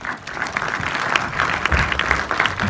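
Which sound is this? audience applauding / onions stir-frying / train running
audience applauding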